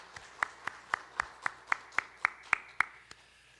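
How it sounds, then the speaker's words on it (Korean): A church congregation claps together at a Christmas worship service. About a dozen crisp, evenly spaced claps form a steady rhythm that holds together and then stops. "우리 다시 한번 크게 박수로 축복하겠습니다"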